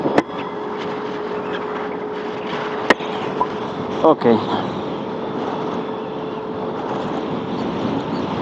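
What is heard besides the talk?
Yamaha NMAX scooter test ride after Castrol oil change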